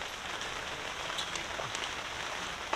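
Rain falls steadily on water and nearby surfaces at an outdoor fishing match, a soft continuous hiss with faint scattered drops and no talking.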